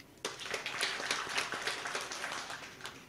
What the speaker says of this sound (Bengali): আপনাদের জন্য একটা হাততালি